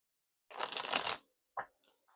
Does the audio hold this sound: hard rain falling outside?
no